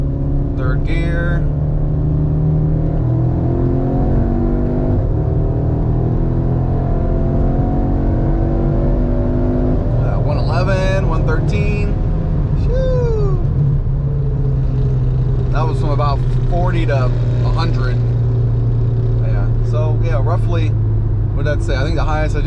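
A tuned car fitted with a DO88 intercooler makes a hard highway pull, its engine droning loud and close as it climbs through the revs, with someone talking over it and navigation prompts now and then.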